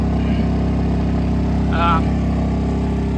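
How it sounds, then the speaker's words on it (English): A Honda EU2200 portable generator runs with a steady droning hum while a person speaks briefly over it. "Generator revved up a little bit, but I think it'll be all right"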